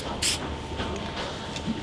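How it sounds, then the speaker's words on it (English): A short burst of clear coat aerosol spray hisses onto a car headlight during a restoration, one brief loud blast near the start and then quieter room sound, with no talk. "This is the clear coat spray"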